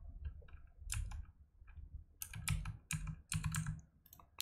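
Bursts of quick clicking keystrokes on a computer keyboard while entering a new parental controls PIN, irregular clusters of taps with brief pauses, close and fairly quiet.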